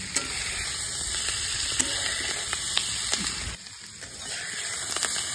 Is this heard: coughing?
no